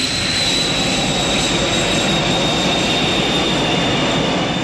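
Aircraft engines roar at full power through a takeoff roll, a loud, steady, unbroken wash of jet noise with a faint high whine on top and no voices.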